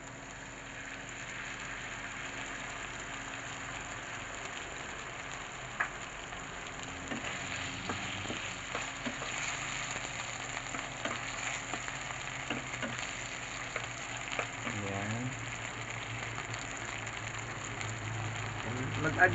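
Tomato sauce frying in a pan for sweet and sour fish, a steady low sizzle running throughout with faint stirring scrapes and a louder burst near the end.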